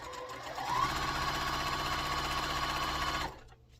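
A sewing machine stitches quilt pumpkin block pieces together, its fast steady motor whir running loud and close for about three seconds before stopping abruptly.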